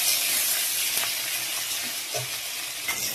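Chillies sizzle as they fry in hot oil in a pan that already holds reddened fried fish heads. The hiss is loud and continuous, with a few soft clinks of stirring.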